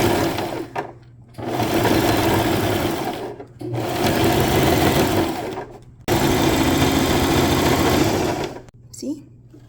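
A sewing machine stitches wig wefts in three long, steady, loud whirring runs separated by short pauses.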